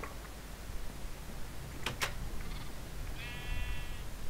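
A goat in the video game Minecraft gives a short wavering bleat near the end, preceded by a couple of sharp clicks, over quiet game ambience with no talking.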